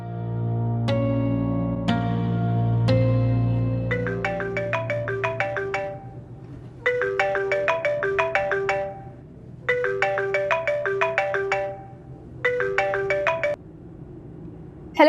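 A mobile phone ringtone plays while a call is placed, first as a few sustained chimes and then as repeated bursts of bright electronic beeps separated by short pauses, loud and close with no talking.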